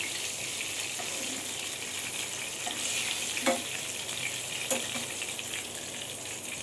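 Chicken pieces for a chicken curry frying in oil, a steady broad sizzle with a couple of brief stirring scrapes, close and even throughout with no voices.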